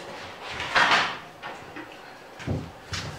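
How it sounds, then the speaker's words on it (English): A heavy woodstove door is handled and shifted in a workshop, producing several separate scraping and clunking bursts of metal, the loudest early on and smaller knocks after. "let me bring the door over."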